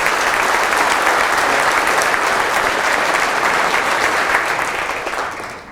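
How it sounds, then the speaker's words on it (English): Loud, dense applause from an audience at a mining alliance meeting hosted by Hexagon Mining, held steady for several seconds and then tapering slightly at the end, with no talk over it. "Please give them a big round of applause."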